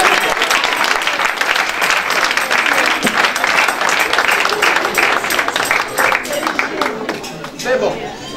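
A church congregation applauds and cheers after a sermon, with dense, steady clapping across the whole stretch and crowd voices mixed in, tapering slightly near the end.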